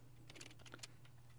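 Quiet, quick keystrokes on a computer keyboard entering a terminal command, a short burst of soft clicks over a steady low electrical hum.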